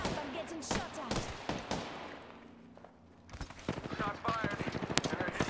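Rapid bursts of gunfire in the battle royale game Apex Legends crackle loudly in repeated volleys, easing briefly before dense firing resumes, with voices talking over the action.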